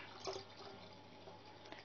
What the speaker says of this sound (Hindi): तो हम इसमें ऐड कर देते हैं अपना मिल्क।